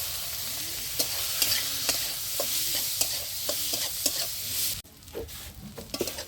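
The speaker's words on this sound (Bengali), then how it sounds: "ওই তেলে পেঁয়াজটা দিয়ে দিচ্ছি।" Onion fries in hot oil left from frying pabda fish, with rhythmic scraping stirs over a constant sizzle. Near the end the hiss suddenly softens, then scattered stirring knocks continue.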